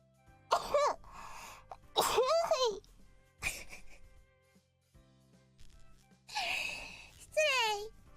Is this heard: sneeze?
yes